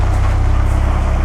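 A turbocharged car engine idles loud and close at a BMW display on a terrace at the 2012 Concorso Villa d'Este, a brief burst of steady, pulsing low rumble.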